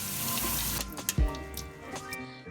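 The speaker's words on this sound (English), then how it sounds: "go ahead and rinse them in some cold water" Cold tap water runs loudly onto cooked noodles being rinsed for chow mein, a short steady splash followed by a brief clatter and thump as the flow eases.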